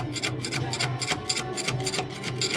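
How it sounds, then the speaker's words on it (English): A screwdriver rasps and scrapes at a metal surface in steady repeated strokes, a close, continuous gritty scratching with no talk. "I'll dig away a bit more at this with a screwdriver."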